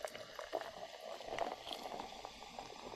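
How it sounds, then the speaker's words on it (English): Liquid streams into a new mug in a steady, close trickle lasting a few seconds, with a light gurgling wash and no talking. "let's see if I can adjust this to where you hear it pouring"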